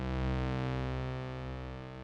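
A sustained, rich synthesizer chord from an OP-Z, run through a delay effect, drones with a thick, layered tone that stays steady and gradually fades a little.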